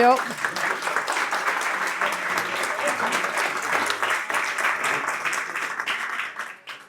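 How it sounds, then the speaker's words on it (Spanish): A conference audience breaks into loud, sustained applause, a thick wash of clapping that stays strong for several seconds before fading toward the end, with a voice faintly mixed in. "Fuerte aplauso."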